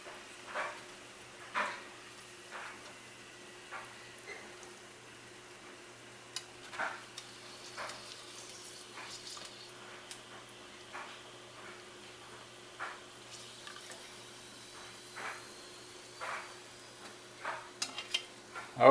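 Pork skins fry in hot grease, giving a faint steady sizzle with scattered soft pops and crackles, quiet and close, with no talking.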